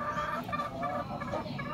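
Stag gamecock clucking, a close, continuous run of short fowl calls lasting under two seconds with no talk over it.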